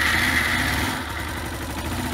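A worn-clutch Suzuki SR125 motorcycle engine labours in gear, a steady mid-pitched drone with a dense low rumble that dips slightly midway and holds on, close and continuous with no talk.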